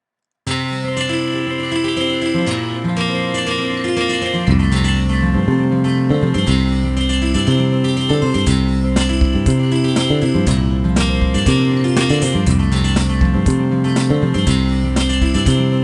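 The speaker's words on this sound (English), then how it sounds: "First, you're going to hear the entrance of the guitar, followed by the bass," Looped GarageBand instrumental music: a guitar part enters first, then a deep bass line and drums join with a fuller, louder layered groove repeating steadily.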